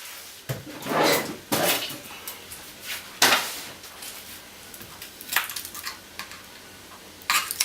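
A saucepan and dishes are handled in a home kitchen while milk is readied for boiling, with irregular clattering knocks and scrapes close by and quiet gaps between them.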